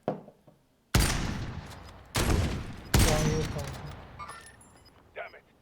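Gunfire from a player's weapon in Call of Duty Warzone: several loud, close bursts of rapid automatic shots in separate volleys, each trailing into a decaying crash, followed by fainter clinks.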